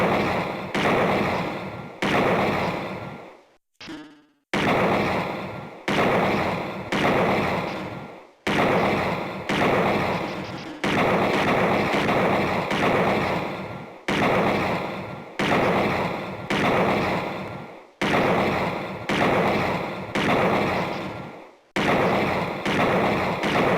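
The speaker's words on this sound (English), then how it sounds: "let's start shooting practice" Repeated gunshots from shooting practice in the video game Snatcher, loud bursts of sustained sharp blasts separated by short gaps over a steady rhythm, with no talking.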